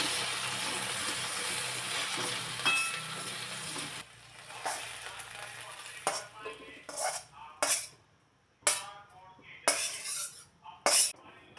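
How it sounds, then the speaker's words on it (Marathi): Okra is stir-fried in a kadhai: a soft, steady sizzle at first, then a series of sharp metallic clinks and scrapes as the pan is stirred and the lid is handled, fairly faint and with no talk. "अधूनमधून झाकण काढून पुन्हा एकदा भेंडी चांगली व्यवस्थित परतून घ्यायची"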